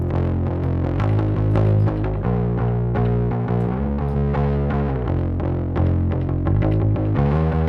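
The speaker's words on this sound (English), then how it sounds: "some kind of intro with some kind of like synth sound and this bass" A synth and a heavily distorted bass play a steady, dense alternative rock intro, sustained throughout at full volume with no voices.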